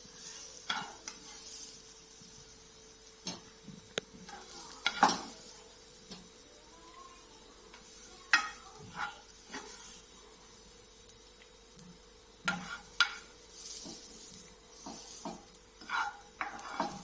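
Vegetable momo stuffing being stirred in a pan, spoon scraping and tapping against the metal in irregular strokes over a quiet, faint background, with no talking.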